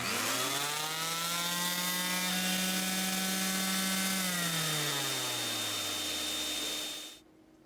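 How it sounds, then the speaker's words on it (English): A power sander spins up and runs with a shop vac switched on by the same outlet, giving a loud steady motor whine with a rising then falling pitch before both cut off abruptly near the end. "So whenever I turn on my sander,"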